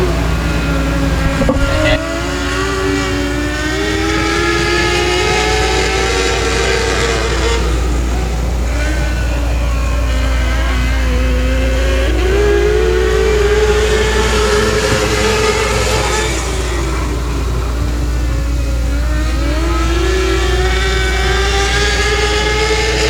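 600cc micro sprint race cars in a Louisiana heat race at Boothill Speedway, engines screaming and rising and falling in pitch as they circle the track, loud and continuous.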